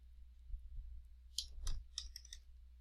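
A computer mouse gives a few sharp, close clicks, two or three brief taps spaced through an otherwise quiet moment.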